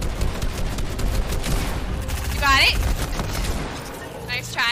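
Rapid bursts of automatic gunfire in the video game Fortnite crackle continuously under excited voices, with dense overlapping shots throughout.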